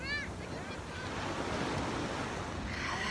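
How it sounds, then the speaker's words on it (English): Gentle ocean waves breaking on a California beach near a small jetty, a steady broad wash of surf with some wind noise on the microphone, no talk. "the waves aren't as rough as it normally is other places"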